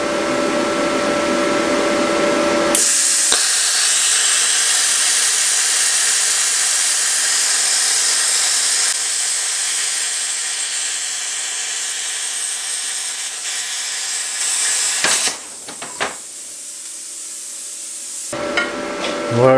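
An HF pilot arc plasma cutter slicing through 8 mm flat steel bar, a loud, steady hissing roar that starts abruptly, holds for about twelve seconds, then cuts out and briefly restarts.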